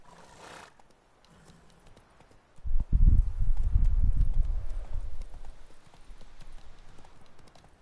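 A horse in The Witcher 3 video game gallops, its clip-clop hoofbeats bursting in loud and close around the three-second mark, then fading to a lighter, steady trot toward the end.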